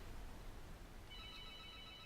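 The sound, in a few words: telephone ringing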